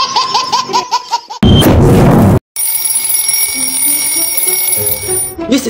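Alarm ringing with sustained high tones after a burst of noise, mixed with laughter and other chaotic sounds, loud and close.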